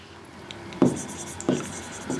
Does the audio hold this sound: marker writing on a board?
yes